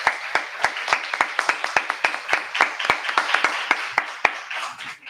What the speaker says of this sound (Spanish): Si queréis le damos un aplauso